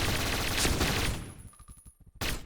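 MP9 submachine gun fire in the video game Point Blank: a dense run of rapid shots, then a slower string of distinct close bursts, ending with one more loud blast.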